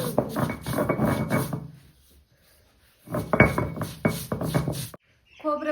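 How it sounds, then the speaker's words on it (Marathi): Coconut being ground by hand on a stone grinding slab in a village kitchen, heard as a rhythmic gritty scraping and rubbing of stone over stone in repeated bursts, with someone speaking briefly between strokes. "सगळ्यात पहिलं खोबरं पाट्यावरती टाकून घेते"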